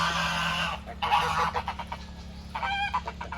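Several geese honk at a farm near a small barn on a snowy spring day, with repeated nasal calls overlapping one another above a steady low hum.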